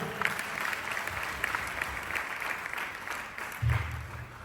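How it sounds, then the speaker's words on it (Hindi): An audience at a motivational money and success seminar claps loudly and steadily in sustained applause, with a brief louder burst near the end. "जोरदार ताली।"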